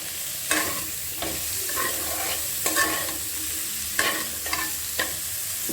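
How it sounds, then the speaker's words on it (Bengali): Banana stem and potato being sautéed with spices such as cumin in a pan, with soft sizzling under repeated scraping stir strokes at a steady, unhurried rhythm, close and moderately loud, no voices. "এবার আলুটা দিয়ে একটু কষিয়ে নেব ভালো করে কষাতে হবে"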